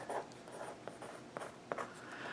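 Pen writing on a small paper mini album, a few quiet close scratchy strokes in short bursts.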